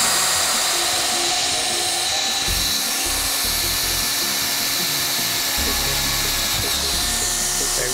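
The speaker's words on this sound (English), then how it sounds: "Now we'd be ready to drill." A hot tapping machine drills through a pressurized pipe: a loud, continuous mechanical drilling whine with a rushing, hissing roar, steady throughout and close by.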